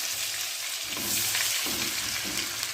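Garlic and ginger cubes sautéing in a pan for haleem, giving a constant close crackling sizzle with a couple of soft stirring scrapes. No one speaks.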